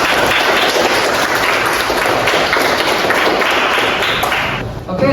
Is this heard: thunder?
no